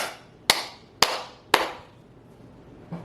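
Three sharp, evenly spaced hand claps ring out alone at moderate loudness, each with a short room decay, followed by a faint soft tap.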